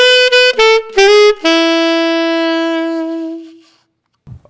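Saxophone plays a melody: a few quick separate notes, then one long held note that slowly fades out, solo and close with no talking.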